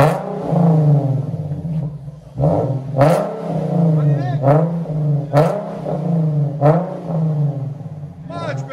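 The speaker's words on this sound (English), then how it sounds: "this is what it will sound like with a rear muffler delete 370Z 2015" A 2015 Nissan 370Z with a 3.7L V6 and its rear muffler deleted revs repeatedly, rising in raspy, throaty blips over a low rumbling idle.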